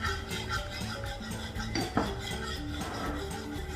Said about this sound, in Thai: แล้วก็คนให้มันเข้ากันนะคะ